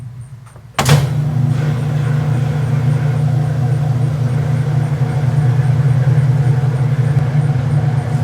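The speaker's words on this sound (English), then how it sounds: "All right, guys, so it's spinning." A Whirlpool top-load washing machine starts up with a sudden thump, then settles into a steady loud motor hum and whir as the drum spins, continuing evenly with no talking.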